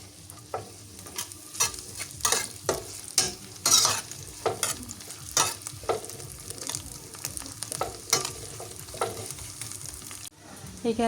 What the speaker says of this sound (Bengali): দিয়ে দিই পেঁয়াজ কুচি আর হচ্ছে দুইটা কাঁচামরিচ খালি করে নিছি এখানে